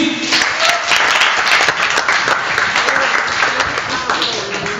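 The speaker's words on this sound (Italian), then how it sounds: "Un applauso in avanti!" Loud, sustained applause from a group at an 18th birthday party, continuous dense clapping with a few voices over it.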